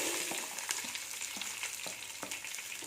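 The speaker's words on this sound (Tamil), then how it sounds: "கருவேப்பிலை போட்டு கொஞ்சம் வதக்கிடுங்க" Sliced shallots, split green chilies and curry leaves sauté in hot oil for a pepper chicken dish, giving a steady close sizzle broken by stirring scrapes, with no talking.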